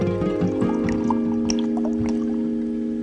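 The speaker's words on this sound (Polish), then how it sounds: "Można polać nią głowę." Water poured over a cartoon bear's head, splashing and trickling in short bursts over steady musical tones.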